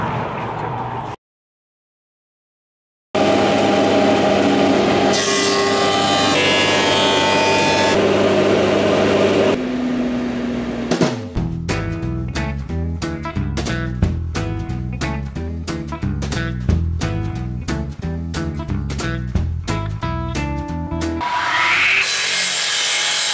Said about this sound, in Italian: sentite i rumori della falegnameria, lui sta già lavorando